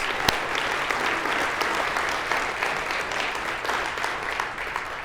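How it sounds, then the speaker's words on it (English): Sustained applause from an audience, steady and fairly loud, with dense clapping continuing throughout and no voices standing out. "let's give them a big round of applause."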